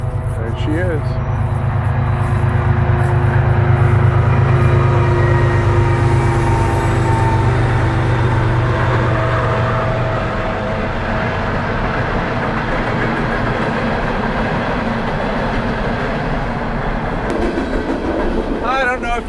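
A train rumbles loudly past close overhead on an old stone railroad bridge at Stone Creek, Huntingdon, a steady heavy roar with rhythmic clatter that eases off partway through.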